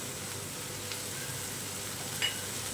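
Cumin seeds sizzling as they drop into tomato masala frying for misal, a steady soft hiss of oil with a small crackle near the end, close and quiet, no talk.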